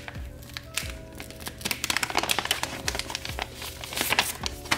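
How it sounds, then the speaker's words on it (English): A sticker being peeled and ripped off a small mail package, with close crinkly tearing and crackling bursts that grow busier and louder in the middle and toward the end. "oh, I'm ripping the sticker."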